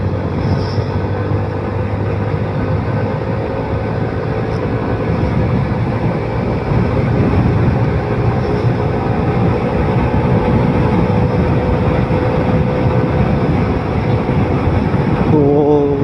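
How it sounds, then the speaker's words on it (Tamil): A motorcycle exhaust roars continuously during a ride from Thanjavur to Kodaikanal, a loud, steady engine drone mixed with rushing wind, with a brief rising whine near the end. "ப்ரோவோட எக்ஸாஸ்ட்டு நொறுக்கி எடுக்குதுங்க"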